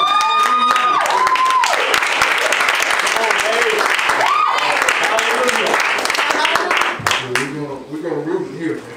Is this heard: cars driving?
no